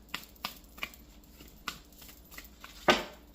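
Moonology oracle card deck being shuffled by hand, a series of crisp, separate snaps and flicks spaced irregularly, ending in a louder riffle burst, close and quiet with no talking.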